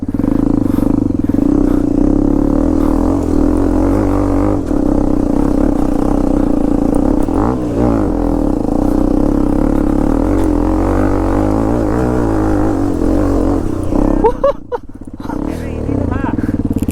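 A Hero Xpulse 210 motorcycle rides through swampy, marshy water off-road, its engine a steady loud drone with a brief revving burst and splashy clatter near the end, voices talking over it.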